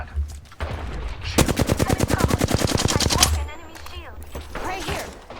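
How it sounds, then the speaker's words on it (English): Rapid automatic gunfire rattles at a turret in a video game, a loud sustained burst of evenly spaced shots lasting about two seconds, set amid game effects and background voice chatter. "Turret getting shot at."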